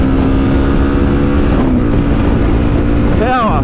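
A motorcycle engine drones loud and steady on an Outback ride, its pitch climbing near the end, with heavy wind rush over the microphone throughout.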